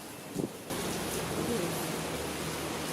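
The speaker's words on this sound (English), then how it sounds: "And that's the heavy rain." Heavy rain pours in Taipei near Taipei Arena and an MRT station, a steady dense hiss that swells in abruptly after a brief quieter moment and then holds evenly.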